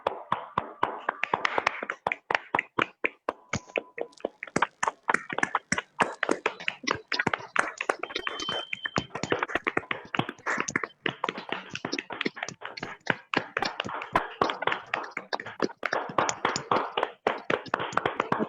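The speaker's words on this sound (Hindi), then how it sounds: "एक जोरदार तालियों के साथ अनिल सर आपका स्वागत करते हैं" An audience claps steadily for a speaker arriving on stage, a dense run of sharp claps going on for many seconds, loud and close, with no speech.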